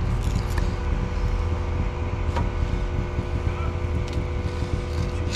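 A boat engine drones steadily in the background, worked on by a neighbour near the New Smyrna Intracoastal: a constant low rumble with slight wavering and a few faint clicks, moderately loud and unbroken.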